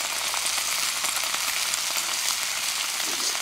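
Eggs, tomatoes and beans frying in a cast iron pan during an outdoor bushcraft breakfast, giving a loud, steady, continuous sizzle with no pauses and no voices.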